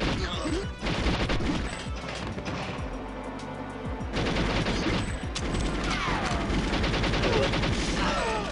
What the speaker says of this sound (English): why can't enemy gunfire kill enemies?